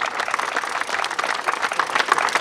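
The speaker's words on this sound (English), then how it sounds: "big applause for the FP50 division" An audience claps at a disc golf prize ceremony. The applause is a steady, dense patter of many hands that holds evenly throughout at moderate loudness, with no voices over it.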